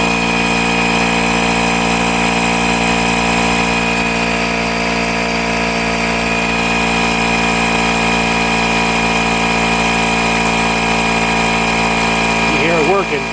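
A Milwaukee M12 compact inflator pumping up a tractor tire, its motor running in a steady, loud, close mechanical drone with constant pitch throughout, shifting slightly just before the end.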